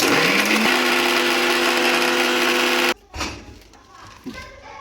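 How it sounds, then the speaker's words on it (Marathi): A kitchen mixer grinder whirs loudly and steadily while grinding fresh wet coconut and coriander into a paste, then cuts off abruptly, leaving quieter clinks and faint handling noises. "इथे मी अशा प्रकारे हे ओल्या खोबऱ्याचं आणि कोथिंबीरचं वाटण वाटून घेत आहे"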